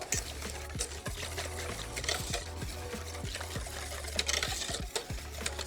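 A cold mixture of potato starch is stirred by hand in a bowl for a mango passion fruit entremets, making a steady, close, liquid swishing with light scrapes of utensil against the container, with no voices.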